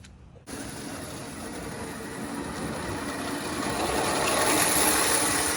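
After a brief silence, a steady chuffing hiss and mechanical rumble of a 1920s Bassett-Lowke model live steam locomotive rises and grows gradually louder as it runs nearby.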